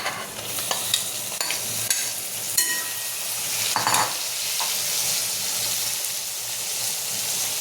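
Mixed vegetables are stirred into softened onion and tomato frying in a pan for paneer pulao, giving a steady close sizzle with scraping spoon strokes and occasional sharper clinks throughout.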